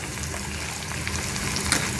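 Urad dal, cumin, green gram and dried red chillies tempering in hot oil for an instant mango pickle, a steady close crackling sizzle throughout with one sharper pop near the end.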